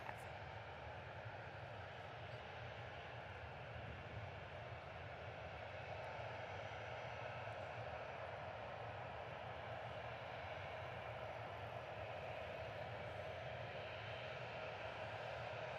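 A United Express Embraer 175 regional jet arriving at Reagan National Airport, heard as a steady, fairly distant engine roar that holds level throughout, with faint background sound and no clear talk.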